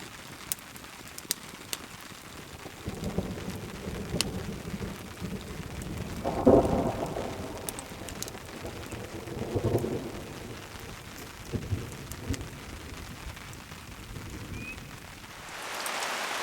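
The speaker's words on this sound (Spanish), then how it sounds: "esos truenos no fueron para nada falsa alarma. Se soltó muy tremendo." Heavy rain drums steadily on a tent while camping alone during a thunderstorm, with several deep thunder rumbles rolling in, the loudest near the middle, and no voices.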